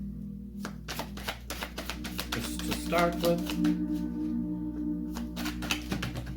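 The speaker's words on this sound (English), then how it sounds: "My shuffling is really bad today." A deck of tarot cards is shuffled by hand in quick rapid riffles and flicks, close and clear, while a person talks over it.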